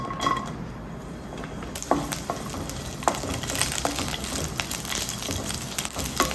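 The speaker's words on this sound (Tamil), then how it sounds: "இதை போட்டு லைட்டாக வதக்கி எடுத்துப்போம்." Sliced onion sautéing in oil in a kadai, a steady close sizzle and crackle with a few sharp clinks and stirring scrapes of a spoon against the pan.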